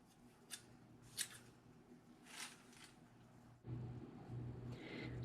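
Scissors snip jute twine into short pieces for fire starters. A few soft, crisp cuts come close by and spaced apart, over a faint low hum, with no talking.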